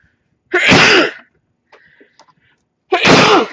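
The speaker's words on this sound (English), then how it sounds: "I gotta sneeze." Two loud, explosive sneezes close up, separated by a short pause with faint rustling in between.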